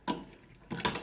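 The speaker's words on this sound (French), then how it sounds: "Et ensuite, je desserre à l'aide d'une clé." A wrench loosens the bit on an unplugged router with its spindle lock button pressed: two close metallic ratcheting, creaking bursts, one short and one longer with sharp clicks, separated by a quiet pause.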